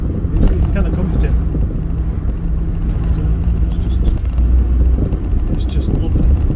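Austin 1300 car heard from inside while driving over rough road, a steady low engine and road rumble with some wind noise, fairly loud and continuous.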